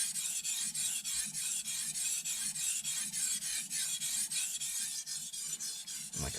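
Kitchen knife sharpened on a whetstone, steady rhythmic rasping strokes close up, each scrape repeating at an even pace for several seconds with no talking.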